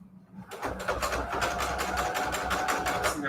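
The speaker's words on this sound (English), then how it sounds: "It always sounds weird when it's not sewing correctly." A sewing machine stitching fabric scraps while not sewing correctly, a loud close mechanical whirr with fast regular clatter that starts after a short pause and runs steadily.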